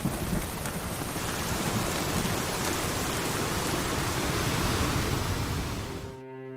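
Heavy rain pours in cold weather as a dense, steady hiss, with thunder rumbling low beneath it, before the sound cuts off abruptly near the end.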